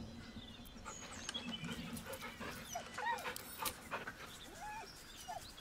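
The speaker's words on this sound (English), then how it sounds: "The dog whimpers nervously" A dog in Baldur's Gate III whimpers and pants softly, giving several thin, high whines and snuffles over a low background rumble.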